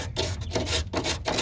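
Sandpaper scuffing a plastic surface to roughen it before hot-iron plastic welding repair, a continuous close rasping rub with quick back-and-forth strokes and brief pauses.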